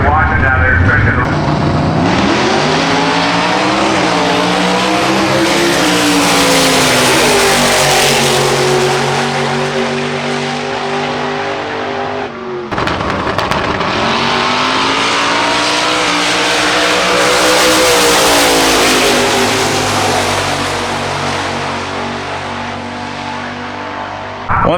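Drag racing car at Hot Rod Drag Week, engine roaring loudly and steadily in two long full-throttle passes, each rising and sustained for around ten seconds, close and dominant.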